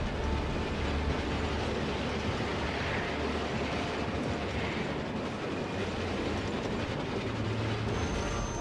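A train running in the Resistance 3 video game, a steady loud rumble with rolling wheel clatter throughout and no pauses.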